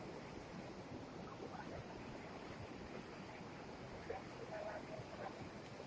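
River flowing beside a rocky riverside campsite, a faint, steady broadband rush of water with some wind-like noise, distant and continuous, with no clear talk.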